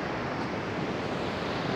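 Ocean surf at the beach in Porto de Galinhas, Brazil, a loud continuous broadband wash of breaking waves mixed with wind buffeting the microphone, close and unbroken, with no voices.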